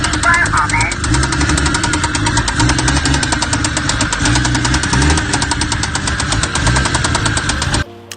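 Turbocharged Toyota Supra with a 2JZ engine knocking from the bottom end, a loud, steady mechanical clatter running continuously for about eight seconds before cutting off abruptly near the end.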